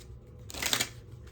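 Tarot cards shuffled and handled while one card is drawn, a short soft burst of papery riffling and sliding, close and quiet, alone without talk.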